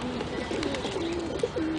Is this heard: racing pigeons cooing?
yes